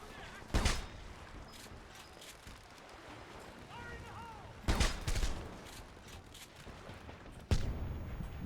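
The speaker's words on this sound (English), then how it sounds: "More gunfire. I hear it." Three loud bursts of gunfire in the video game Homefront crack out at spaced intervals over a low ambient rumble, with faint distant sounds in between.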